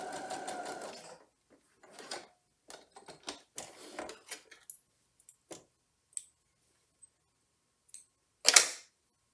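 A sewing machine stitches a quilt block in short bursts, a steady run of needle clatter at first, then scattered stops and starts with clicks and small handling noises, ending in one sharp louder burst.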